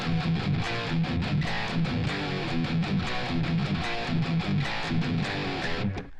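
A distorted electric guitar pounds out a power chord version of a riff, dense and aggressive with rhythmic chugging hits, loud and continuous with no voices.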